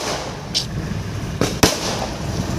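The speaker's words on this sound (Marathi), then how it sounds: "इकडं फुल फटाके चालू आहेत." Diwali firecrackers burst nearby in a few sharp cracks, one brief pop early and two louder bangs close together later, over a constant background hiss of rain-soaked surroundings.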